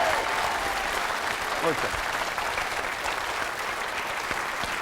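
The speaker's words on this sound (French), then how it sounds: "Moi, je demande un applaudissement spécial pour les filles." A studio audience on the French TV game show Le Bigdil gives sustained applause for the contestants, a dense, even clapping that fills the whole stretch while a voice speaks briefly over it.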